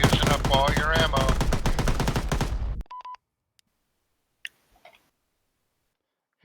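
Rapid automatic gunfire from a video game rattles loudly in a dense burst for nearly three seconds, then cuts off, leaving near silence broken by a few faint ticks.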